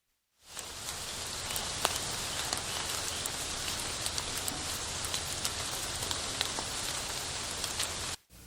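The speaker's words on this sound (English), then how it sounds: "it's just the rain and it's leaking on your bed" Steady rain falls on a surface, a dense continuous hiss of drops with occasional sharper individual drips, constant and fairly close before cutting off abruptly.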